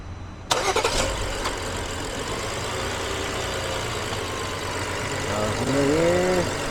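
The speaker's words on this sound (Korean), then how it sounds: "시동 한번 다시 걸어주세요." A BMW X5 E70 gasoline engine with a suspected DME fault cranks and catches with a sharp start, then settles into a steady idle. Voices speak faintly in the background.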